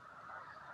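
Snow geese call during migration across a field full of birds, a steady distant chorus of honking heard faintly as a continuous wash of sound.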